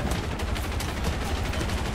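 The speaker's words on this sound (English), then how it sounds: "I hear some auto cannons over the horizon." Distant autocannon fire in War Thunder tank combat: rapid, dense bursts of shots rattling continuously, muffled and far off over the horizon, with no talk.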